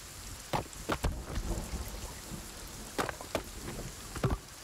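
Rain hisses steadily in the Sons of the Forest video game, broken by several sharp thunder cracks and rumbles at irregular intervals, with no talk.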